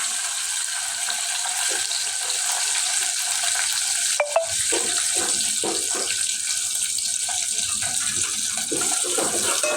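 Curry leaves and onion frying in hot oil, a steady hiss with crackling and stirring clatter, including a sharp burst midway as the ingredients hit the pan, heard close with no talk.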